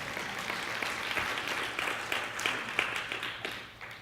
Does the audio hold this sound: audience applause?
yes